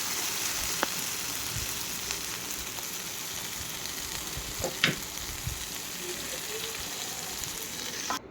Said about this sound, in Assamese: এতিয়া মই আলুটো সিজালৈকে অকণমান ফ্ৰাই কৰিম।